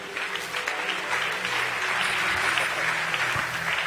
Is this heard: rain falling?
no